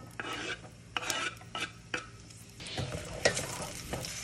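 Chopped onion fries in extra virgin olive oil in a pot, sizzling steadily while a utensil stirs it in several distinct scraping strokes. No one speaks over it.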